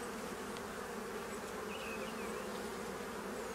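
Honeybees buzz steadily throughout a spring hive inspection, a dense continuous drone from many insects close by, with no voices.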